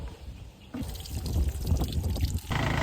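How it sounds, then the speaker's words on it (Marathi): Water pours and trickles over pomegranates as they are rinsed, a close, splashing flow that grows louder midway and continues without speech. "हे पहिल्यांदा धुवून घेऊया"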